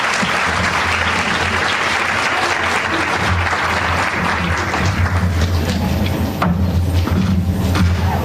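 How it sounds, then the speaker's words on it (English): An audience at an Islamic lecture applauds to welcome a speaker, a loud, sustained wash of clapping with a few deep thumps and bumps mixed in, continuing steadily to the end. "please give a warm welcome and a round of applause to Sheikh Abdul Nasir Jangda"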